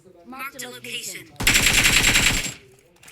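Machine gun fire erupts in one sustained, loud burst of rapid shots lasting about a second, preceded and followed by people talking nearby.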